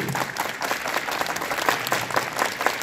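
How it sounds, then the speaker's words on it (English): A group of children claps hands together, making a dense, fairly loud patter of many overlapping claps for a few seconds rather than crisp unison beats, with no talking over it. "Clap together."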